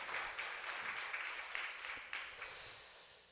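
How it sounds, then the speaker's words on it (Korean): A church congregation applauds after a closing prayer, a steady wash of clapping that holds for a few seconds and then gradually fades, with no talk over it. "하나님께 영광의 큰 박수 올립시다"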